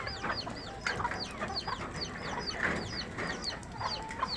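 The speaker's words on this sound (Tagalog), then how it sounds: "Ipin natin sa labas yung ating mga ibon." Gamefowl chickens cluck repeatedly just outside their cage, some of them sick with a one-eye cold, giving a busy stream of short overlapping clucks at close to moderate distance with no talking.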